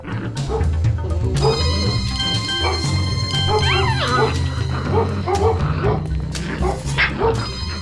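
Labrador dogs bark and yip repeatedly amid a busy, noisy background with music-like tones and some voices.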